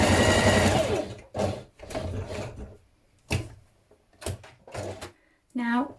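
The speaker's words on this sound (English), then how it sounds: "Now you're going to stitch your collar sections together, leaving your notched edge open." A sewing machine stitches shirt collar sections together for a Butterick 3039 shirt, running in several short bursts separated by pauses, with a person talking throughout.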